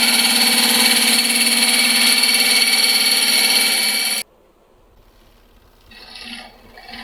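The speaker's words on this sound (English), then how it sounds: "very delicate light cuts with the shear scraping" A lathe spins a maple burl platter while a shear scraping tool makes light cuts, giving a loud, steady, bright hiss and whir that cuts off abruptly partway, leaving near silence with a faint brief rustle.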